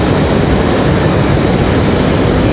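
An Airbus A321neo airliner from Miami arriving at Raleigh-Durham gives a loud, dense, unbroken roar that fills the whole stretch, with nothing else breaking through.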